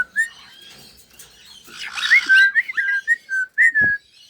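A bird whistles a run of bright, tuneful notes, starting sparse then growing busier and louder, with a short rustle near the end.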